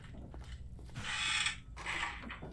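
Creaking in the horror video game Granny 3: two drawn-out mechanical creaks, like an old door or hinge swinging, moderately loud against a faint low background hum, with no voices.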